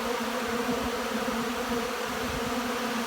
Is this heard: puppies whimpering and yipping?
no